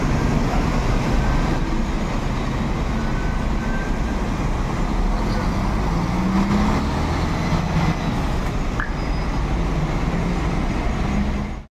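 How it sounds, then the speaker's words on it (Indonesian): A Mercedes-Benz 2445 tronton truck passing on a road, a continuous loud low diesel rumble with broadband roadway noise holding steady throughout and fading slightly at the very end. "Yang tronton Mercedes-Benz 2445."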